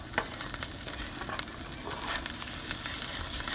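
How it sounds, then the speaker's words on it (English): Butter melts and sizzles in a skillet with chicken, giving a steady, close crackling hiss with small pops throughout and no talking. "when this butter melts, and we're gonna deglaze the bottom of the skillet while it's melting"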